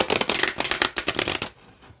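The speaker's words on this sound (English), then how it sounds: "You can shuffle this the same way. Split it in half." Deck of playing cards being riffle shuffled close up, a fast rattling burst of flicking cards lasting about a second and a half before cutting off into near silence.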